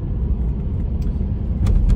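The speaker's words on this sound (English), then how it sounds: "the engine makes a decent noise" An SUV engine idles with a low, steady rumble close by, swelling slightly near the end, with no talking.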